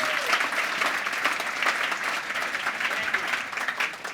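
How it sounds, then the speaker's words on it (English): An audience at a talk on television and audience engagement applauds as a speaker comes on stage, a steady, full round of clapping with a few cheers, filling the whole stretch at an even level. "Let's give Oshur a massive round of applause. He comes on stage."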